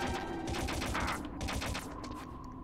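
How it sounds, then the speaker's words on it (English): Gunfire in the Metal Gear Solid video game aimed at the player, a dense rapid burst of shots that rattles on continuously for a couple of seconds at moderate loudness. "What is shooting me?"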